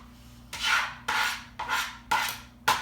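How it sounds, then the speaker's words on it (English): Dry brown onion skin is peeled off by hand with a turn and pull, giving five crisp papery rasping strokes at a steady pace, close and clear, with no talking. "this brown peel that we're not eating comes right off. You just turn and pull."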